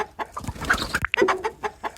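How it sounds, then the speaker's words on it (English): A chicken clucking in the video game Blindfold Sound Search, a busy run of short, choppy clucks and squawks, close and fairly loud, with no voices. "Chicken."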